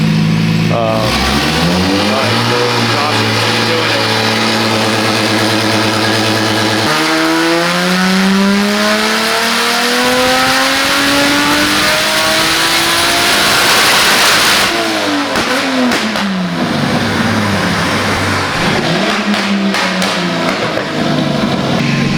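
A stock, sealed 1JZ turbocharged engine in a Toyota Chaser revs hard and loud, pitch sweeping up and down through repeated pulls, with a sharp cut and re-rev midway; voices are faintly present beneath the engine.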